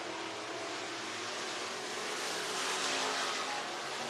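Modified race cars circle Talladega Short Track on a qualifying run, their engines blending into a steady, distant, fairly faint roar with no talking.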